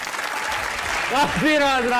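Studio audience applause on a Pakistani comedy talk show, a steady broadband clatter throughout with a voice rising over it near the end.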